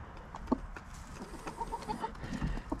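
Backyard chickens in a small chicken run, clucking softly and irregularly with occasional sharper calls, close by and without talk.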